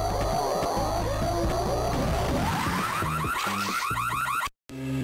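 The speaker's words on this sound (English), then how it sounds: "before my brain exploded from a siren alarm" A warbling siren alarm from the Game Boy Advance game Max Payne blares loudly with rapid rising and falling sweeps for several seconds, then cuts out abruptly before a brief resumption.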